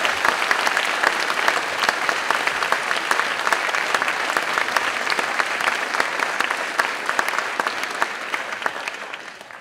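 A seated audience at a health community lecture on war and conflict claps steadily and densely to welcome a speaker, a sustained wash of many hands that continues for nearly ten seconds and thins slightly at the end.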